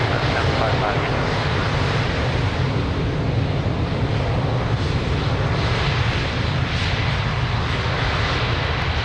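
A jet airliner at Lisbon Airport roars steadily on its takeoff run, a loud, continuous broadband engine rumble with wind buffeting on the microphone, and a faint radio voice beneath it.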